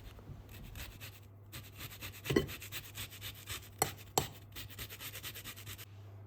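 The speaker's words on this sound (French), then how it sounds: "Ajoutez le zeste d'un citron." Lemon zest being grated for a flourless Italian lemon cake, a soft continuous rasping scrape with a few sharper scratches, close and alone with no talk.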